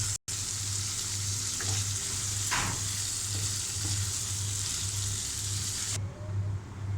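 Chickpeas frying in a cooked-down masala with turmeric, cumin, coriander, salt, cloves and bay leaf, giving a continuous loud sizzle with a steady low hum and a few faint scrapes, no talking.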